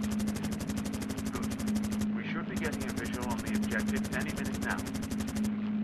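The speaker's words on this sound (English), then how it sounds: "Ah! I'm getting fire from my six!" Sustained rapid machine gun fire from a Battle of Britain flight combat video game, loud and continuous throughout with a brief gap midway, while voices talk over it.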